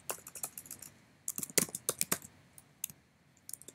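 Clicky keystrokes on a computer keyboard while entering a name into a Dart program, coming in irregular bursts of quick taps with short pauses between them, fairly quiet and close.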